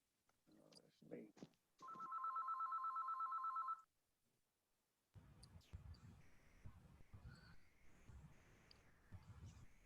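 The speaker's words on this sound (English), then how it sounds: "somebody's got a phone call." A phone rings with a steady electronic trill for about two seconds during a council meeting, between stretches of people talking in the room.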